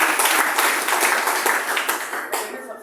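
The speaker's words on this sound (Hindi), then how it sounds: "एक बार जोरदार ताली।" Loud applause from an audience at a gathering in India, dense steady clapping filling the whole stretch and tapering slightly toward the end, with no voices over it.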